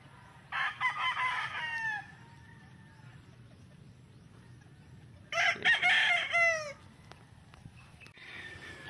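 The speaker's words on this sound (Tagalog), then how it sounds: "Ayan po yung super sweater na broodcock natin." A sweater broodcock rooster crows twice, close and clear, with softer clucking after the second crow over a low background rumble.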